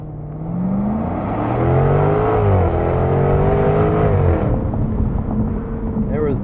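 A 2021 Jaguar F-Type R convertible launching hard from a standstill on an automatic with traction control on, the engine climbing loudly through a rising rev sweep and shifting before easing off.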